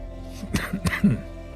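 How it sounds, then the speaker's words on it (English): A few short, rough throat-clearing coughs in quick succession, close and moderately loud, with no talking. "I think I just about have this cough worked out."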